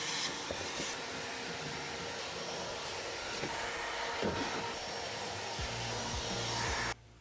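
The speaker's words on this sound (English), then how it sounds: "we vacuum." A vacuum cleaner runs close by inside a car's emptied trunk with a steady whine, with occasional bumps and knocks as it moves, then shuts off abruptly.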